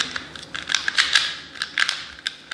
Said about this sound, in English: Okay, first of all I'm going to shuffle the cube.